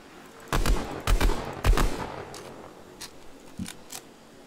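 A gun reload in Fortnite, resembling a Vandal reload, plays as several sharp mechanical clacks and bursts in quick succession, with fainter clicks trailing afterward and no talk over it.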